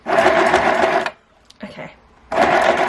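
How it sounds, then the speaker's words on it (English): Sewing machine running a short reverse stitch on a fabric scrunchie, a loud close motor whir in two bursts with a pause between, a soft click in the gap. "I'm just going to do a little reverse stitch to lock it in."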